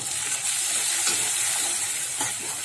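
Ground chilli, turmeric, cumin and coriander powders frying in oil in a pan for a rohu fish curry with potol, a steady close hiss with a few soft stirring scrapes, no talk.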